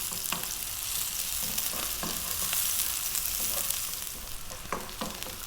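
Hard vegetables such as celery stir-fry over high heat, giving a loud, continuous hiss of sizzling with occasional scraping and tossing knocks as they are kept moving.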